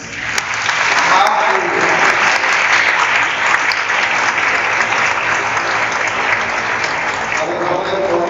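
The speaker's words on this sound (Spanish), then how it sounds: "Vamos a darle un aplauso a las madres." A church congregation applauds the mothers during a Christmas Aguinaldos mass, steady loud clapping sustained for about eight seconds with no break.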